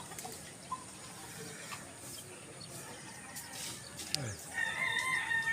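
A gamefowl rooster crows outdoors while being let out for training in Gumaca, Quezon. One clear crow rises near the end over a steady background of farmyard noise and running water.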